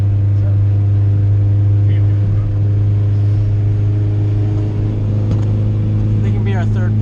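A tuned red Honda Civic pulls in third gear, heard from inside as a loud, steady engine drone with a strong low hum that holds almost unchanged throughout.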